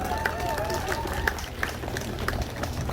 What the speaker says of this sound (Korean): 젊은 우리 청년 율동팀에게 다시 한번 힘찬 박수 부탁드립니다